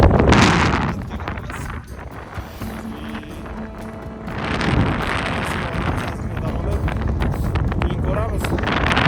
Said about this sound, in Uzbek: Shamol juda ham kuchli.